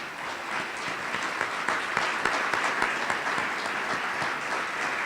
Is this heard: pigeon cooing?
no